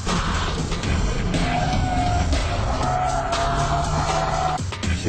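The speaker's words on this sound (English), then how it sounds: "Keiichi Tsuchiya drifts using 6 different drift techniques." A car drifting in the video game GTA San Andreas, with a loud continuous engine roar and tire squeal that hold steadily, shift pitch partway through and cut off briefly near the end.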